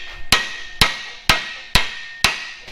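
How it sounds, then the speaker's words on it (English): Five loud, evenly spaced hammer blows ring out on a rock crawler's steel steering knuckle during front-end disassembly, each a sharp metallic crack with a brief decaying ring, close to the microphone. "We're gonna hit it with the hammer wrench action going right here."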